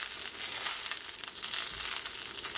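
Mirin-glazed chicken sears in a cast iron pan, a dense, steady close sizzle and crackle with no talk.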